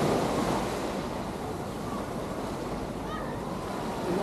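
Ocean waves at Waikiki Beach, a soft continuous surf wash with faint hiss and some wind noise, moderately quiet and heard from nearby, without talk.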